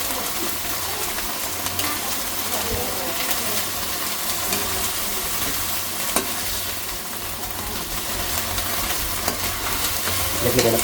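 Food fries in a pan, a steady loud sizzle and hiss filling the space as it is stirred with scraping strokes, alone without speech.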